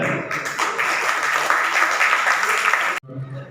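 Audience at a Kannada literary forum event in a hall clapping together in sustained, dense applause for about three seconds, then it cuts off abruptly.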